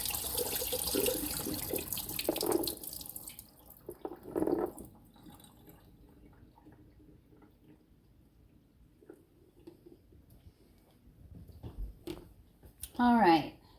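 Green beans are drained by hand at a sink for canning. Running water rushes loudly at first, then fades into quieter drips and trickles, with a person talking over it.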